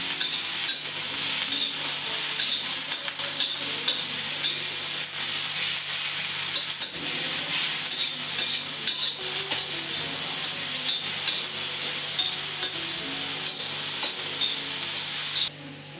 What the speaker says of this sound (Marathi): थोडंसं मीठ घातलं म्हणजे कांदा आपला लवकर भाजला जातो